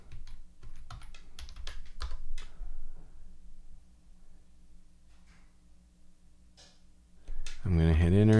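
A password is typed on a computer keyboard during a terminal software install: a run of quick, close keystroke clicks, tapering into sparse taps, then a sudden loud tonal burst near the end.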